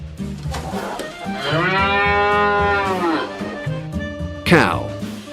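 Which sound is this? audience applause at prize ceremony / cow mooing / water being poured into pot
cow mooing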